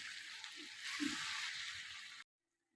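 Cumin powder frying in a pan gives a soft steady hiss and sizzle with a couple of faint dull taps, then stops abruptly into silence.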